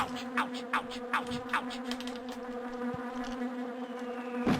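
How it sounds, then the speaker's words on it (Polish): Wasps buzzing in the PS1 game The Grinch, a steady, droning hum with repeated short pulses layered over it, close and continuous, with no talking. "Dobra, chociaż te osy nie zabierają mi dużo życia."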